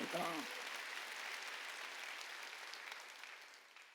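Church congregation clapping together during a Sunday worship service, a steady broadband wash of applause after a short burst of the preacher's voice at the start, fading gently toward the end.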